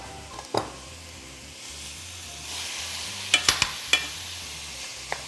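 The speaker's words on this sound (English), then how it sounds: "Next up, we have our ground beef. Want to get this browned in there." Ground beef browns in a pan with a close, steady sizzle, stirred with a utensil that clacks sharply against the pan several times.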